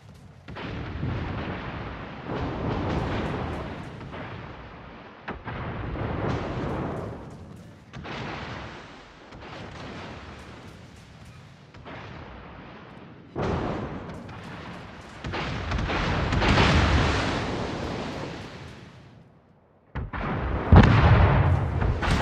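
Battleship main guns firing in the naval game World of Warships, loud heavy booming salvos in repeated bursts, one after another with rumbling decay between them, no talk.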